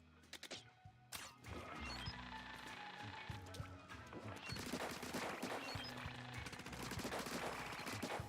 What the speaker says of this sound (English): Was that a minigun?